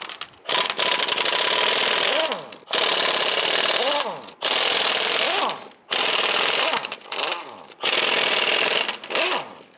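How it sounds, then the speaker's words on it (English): Lug nuts come off the rear wheel of a 1995-2001 Ford Explorer with a 19mm socket, heard as five loud, close bursts of rapid mechanical rattling, each lasting a couple of seconds and separated by short pauses. "Using your 19mm socket, go ahead and loosen and remove the nuts."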